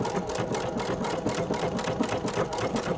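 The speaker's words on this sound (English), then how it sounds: "and then you're going to stitch again." Sewing machine running steadily as it stitches ribbon onto fabric, a close, continuous mechanical whirr with fast rhythmic needle clatter throughout, no talking.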